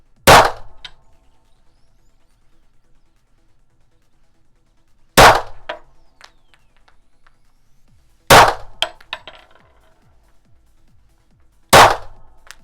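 Four sharp M45 Strela air pistol shots striking a target, each a loud isolated crack with a brief metallic ring, spaced several seconds apart with quiet between.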